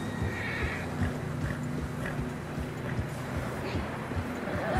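Horses in the video game Red Dead Redemption 2 trudge through fresh snow on a narrow mountain path, with steady hoofbeats and occasional snorts and whinnies at moderate volume under a low wind hum.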